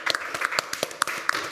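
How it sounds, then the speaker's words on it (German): Studio audience applause on a live German music quiz show, heard as sparse, uneven individual claps standing out above a thin wash of clapping, fairly close and brief, with no talk over it. "da haben wir noch einen zweiten Applaus natürlich."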